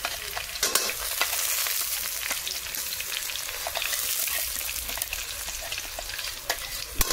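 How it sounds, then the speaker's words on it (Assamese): Ground lentil paste frying in a pan for an Assamese dish, giving a loud, dense, continuous sizzle heard up close, with occasional stirring scrapes. "মই এতিয়া অলপ পেষ্ট কৰা দালি আছিল এই দালিখিনি মই ভাজি ল'লোঁ"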